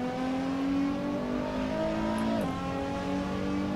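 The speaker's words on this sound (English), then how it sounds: "resorting to pressing the clutch here to kill the revs and get a hold of the car" A Nissan GTR engine in the Assetto Corsa racing game on the Nürburgring, revving hard as a loud, steady, high-pitched drone, then a sharp drop in pitch as the clutch goes in, alone with no talk.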